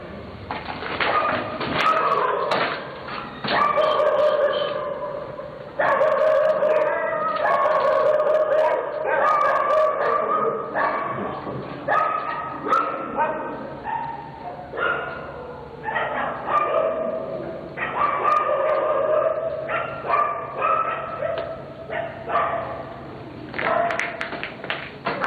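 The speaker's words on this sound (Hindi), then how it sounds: "सुबह किसी को देख के भौंक रहे हैं जो हमें नजर नहीं आ रही यार" Several dogs bark and yap continuously, overlapping in a loud, agitated chorus that goes on without pause.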